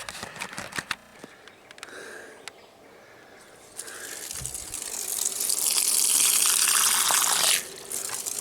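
Water is poured into a container and sloshed around as it is shaken to settle the contents, starting with scattered splashes and knocks, then building into a steady, close rushing gush before cutting off abruptly near the end.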